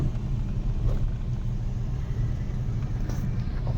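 Steady low rumble of a car engine in second gear during a driving lesson, close and continuous, with a faint mechanical hum over the whole stretch and no talk.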